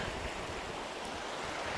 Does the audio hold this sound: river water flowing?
yes